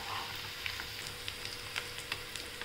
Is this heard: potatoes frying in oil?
yes